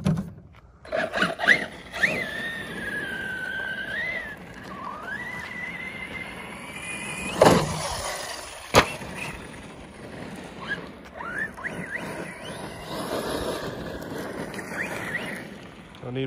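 A Corally Kronos XTR RC car jumps a ramp dug into the ground. Its electric motor whines, rising and falling as it speeds up, with sharp thuds from landings and impacts, all outdoors in wind.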